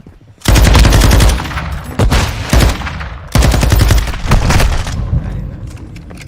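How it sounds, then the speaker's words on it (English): Loud bursts of automatic gunfire in Modern Warfare 2 multiplayer, two long rattling volleys separated by a brief pause, close and dense. "I think somebody was shooting you."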